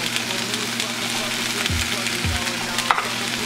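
Seasoning tossed into a sizzling pan of vegetables for Cajun rice cooked Chinese style: a steady loud hiss of frying with stirring and a few low thumps of the pan, no talking.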